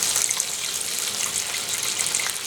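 Water pours steadily into a cooking pot over meat stock, a continuous close splashing gush with no talk, made while cooking a caught sandhill crane.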